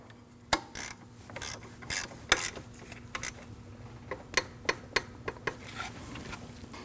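Hand ratchet tightening a 12mm lock bolt on the belt tensioner of a 2003-2008 Subaru Forester 2.5L, close sharp clicks in short bursts with pauses, growing into a quicker run of evenly spaced ticks.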